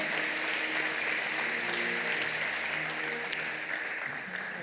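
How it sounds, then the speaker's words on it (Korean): A church congregation claps in welcome during a worship service, giving a soft, even patter of many hands that carries on steadily for a few seconds without much rise or fall. "여러분께 박수로 환영하시죠."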